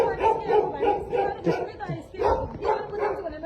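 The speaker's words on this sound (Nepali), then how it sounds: "कुकुर भुग्या भुइ गर्छ।" A dog barks repeatedly in a steady, rhythmic run under a busy background of voices, with the barks fairly loud and close.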